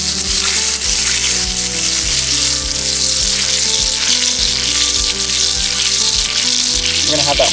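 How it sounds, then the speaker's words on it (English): A stick of butter melts in a pan over high heat, sizzling loudly and continuously up close, with regular soft knocks in the background throughout. "we're gonna throw that stick of butter on there. Start melting that bitch."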